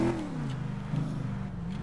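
A 1963 Impala lowrider's engine revs in GTA5, a mid-pitched motor rising then dipping and settling back, heard alone and close for under two seconds.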